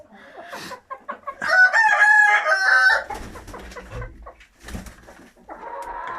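A crested rooster crows loudly nearby in one long call, with hens clucking and scattered farmyard noises around it.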